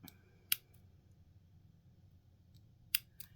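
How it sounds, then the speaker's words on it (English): Scissors make small grass-style snips into paper for a miniature craft house, with two crisp, isolated cuts about two and a half seconds apart over a quiet low hum. "we're going to take our scissors and we're going to, I call it grass cut"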